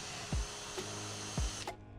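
A power drill fitted with short double-ended bits, used while building an overland rack for a 1969 Jeep CJ5, gives two brief whirring bursts that spin down, with faint clicks between, close by in a quiet space.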